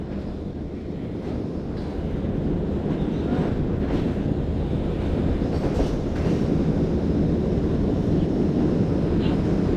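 The Karachi Express passenger train rolls along its rails in Pakistan, a loud, continuous rumble with faint wheel clatter and wind buffeting, heard from on board with no one speaking.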